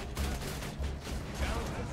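Turret gunfire in Borderlands 2, a steady stream of muffled shots and thumps during a co-op firefight, dense and continuous with game effects layered over it.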